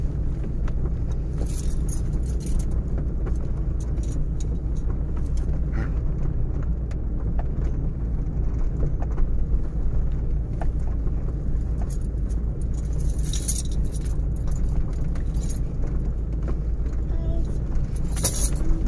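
Car rolling over a bumpy, uneven road at night, with a steady low rumble of the engine and tyres under constant rattling and jangling from loose items in the cabin, continuous and close throughout.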